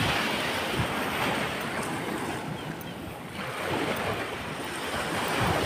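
Sea waves wash steadily onto the beach at Iba, Zambales, a broad continuous surf roar with gentle swells in intensity, mixed with wind buffeting the microphone; no voices.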